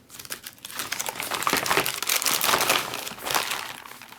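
MRE pizza slid into its outer plastic bag, giving a continuous close, loud crinkling and rustling of plastic for several seconds with no talk.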